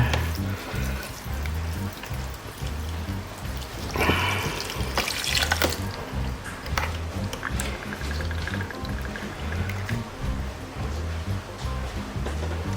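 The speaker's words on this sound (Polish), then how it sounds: "Później sobie zawsze nalewam z akwarium po prostu wodę tutaj kubeczkiem" Aquarium water poured by cup into an Aquael Hypermax 4500 BT canister filter: a steady wet trickle with louder splashy bursts midway, close and continuous, with a low hum underneath.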